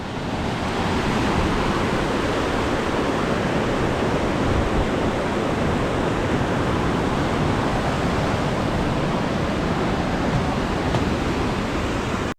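River water rushing beneath a footbridge in Siran Valley, Pakistan, a loud, constant broadband roar close by, with no voices and no break in the flow.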